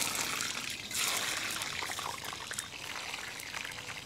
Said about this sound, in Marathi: तेल गरम झालेलं आहे आपलं। आता आपण याच्यामध्ये टमाटे फ्राय करून घेऊ।